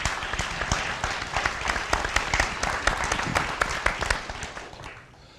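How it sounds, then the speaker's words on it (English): An audience at a civic engagement event applauds a panel, sustained full-room clapping with sharp individual claps that tapers off and fades out near the end. "So a round of applause for our panelists"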